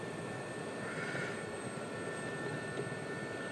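A Gazelle helicopter in a Polychop Simulations flight sim, flying fast over water: a steady, moderately loud broadband rotor and engine roar with a faint high whine, continuous throughout without talk.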